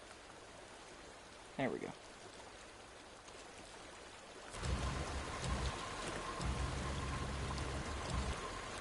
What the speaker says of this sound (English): Just like real life, water's hella loud.